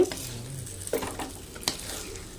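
Ration rice flour dough with onion, coriander and curry leaves is stirred in a pan for kozhukattai, giving a soft, close sizzle with a few brief spoon scrapes and taps.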